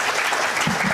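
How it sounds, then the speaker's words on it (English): An audience at an international seminar applauds in a dense, steady burst of clapping that stays loud and unbroken for the whole second. "you can clap your hands loudly for the next generation with your heart and with your hands"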